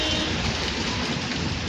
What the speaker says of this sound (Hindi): और ज़्यादा बारिश गिरने लगा। देखो कितना ज़्यादा करके गिर रहा है नॉन स्टॉप।